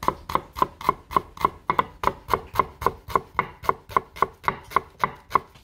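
Rapid, even knife chopping of garlic, onions and shallots on a board for a wild goat curry, about twenty crisp close strikes in steady rhythm with no talk.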